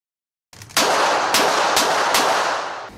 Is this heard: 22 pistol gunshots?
yes